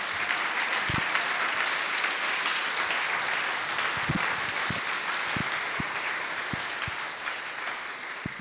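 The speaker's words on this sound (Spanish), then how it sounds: "denle un fuerte aplauso" A church congregation claps during a sermon, a loud, sustained wash of many hands with a few sharper individual claps standing out throughout.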